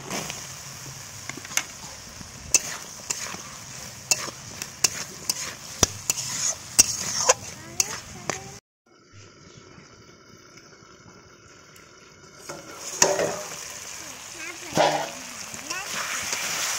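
Chopped potatoes being stirred and fried for a village-style river prawn mustard curry: a steady sizzle cut with sharp spoon scrapes and clicks against the pan, a quieter pause midway, then stirring and frying resume.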